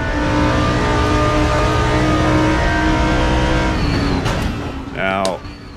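Audi and Porsche GT2 race cars in the RaceRoom racing game, set at a circuit with a Parabolica corner, hold a steady loud engine drone that fades near the end as one Audi overtakes another, then a brief rising rev.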